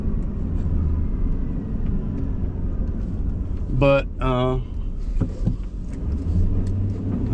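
Idling truck with a 5.4 liter gas engine, a steady low rumble close by throughout, with a man's brief speech over it in the middle.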